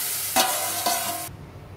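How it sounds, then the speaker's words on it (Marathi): Mashed potato vegetable hitting a hot tempering with asafoetida: two sharp bursts of loud hissing sizzle with stirring, close up, then cutting off abruptly. "आता आपण ही घोटून घेतलेली भाजी ह्याच्यावर टाकणार आहोत."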